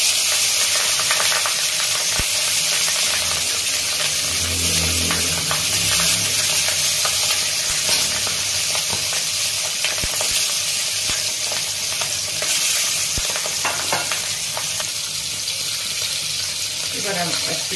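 Fish pieces frying in hot oil in a kadai with a pinch of turmeric, a steady broad sizzle with brief spatters and clinks, loud and close throughout, with a few soft vocal sounds underneath.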